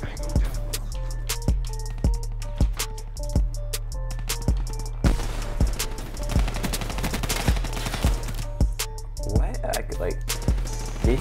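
Rapid bursts of gunfire in Call of Duty Black Ops 3 multiplayer, with repeated loud sharp shots and short automatic volleys over a steady game soundtrack, continuing throughout with brief pauses.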